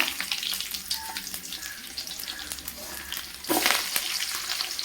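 Curry leaves and fennel seeds crackle and fry in hot oil for chicken chukka, giving a close, continuous sizzle with sharp pops that swell into a louder burst near the end.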